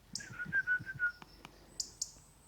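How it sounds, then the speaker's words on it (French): A small bird chirps close by outdoors in Meymac, giving a quick run of whistled notes and then a few sharp, high tweets over a quiet background. "Ah, un petit oiseau là."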